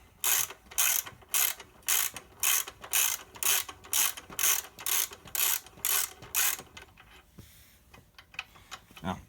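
A ratchet runs pressure plate bolts in during a clutch install on a dually truck build, giving a steady run of about fourteen sharp, evenly spaced clicking bursts, loud and close, then a few scattered lighter clicks and handling noises.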